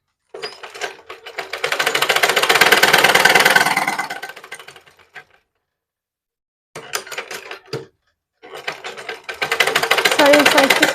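A sewing machine stitches blouse fabric in loud, rapid runs, pausing briefly between bursts of steady mechanical whirring.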